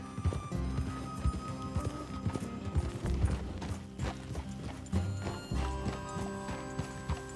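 Horse hooves clip-clop in a Red Dead Redemption 2 scene, several horses walking at a steady uneven rhythm, close and fairly loud, with an occasional neigh and soft game music underneath.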